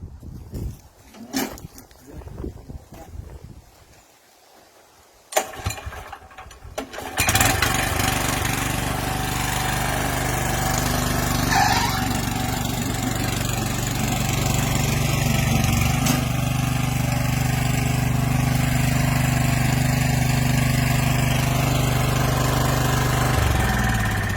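A Red Roo rotary hoe tills garden soil. After a quieter start with knocks and brief sounds that may be voices, the engine settles into a loud, steady mid-pitched drone that runs to the end.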